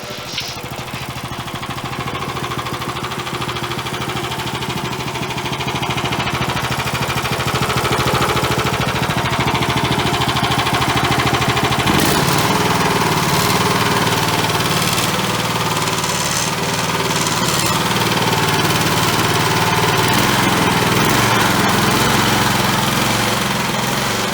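A homemade Chonda motorbike engine starts and keeps running, a steady, loud mid-pitched chug with a knocking vibration that grows slightly fuller about halfway through, with no talk.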